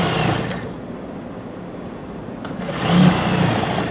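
Sewing machine running steadily while stitching lace onto pants, a loud, close, continuous mechanical whir that surges briefly near the end.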